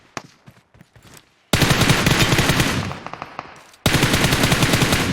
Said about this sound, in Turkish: Şimdi biri UMP sıktı.